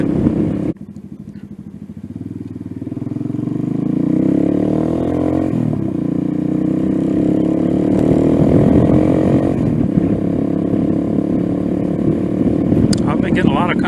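A Venom Ghost 250 motorcycle engine drones close up while riding, its note rising through the gears with repeated revving sweeps and wind rush over roughly fourteen seconds.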